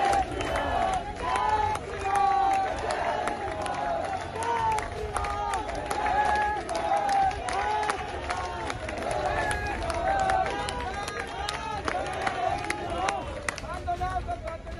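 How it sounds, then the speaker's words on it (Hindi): A crowd of Hindu organisation members chanting Jai Shri Ram slogans outside a police station, a loud, continuous rhythmic mass of voices with clapping and babble, with a reporter's voice running through it. "ये हिंदू संगठनों के लोग हैं जो थाने के आगे जय श्री राम के नारे लगाकर आरोपियों को जबरदस्ती रिहा करने की मांग को लेकर के लगातार प्रदर्शन कर रहे हैं"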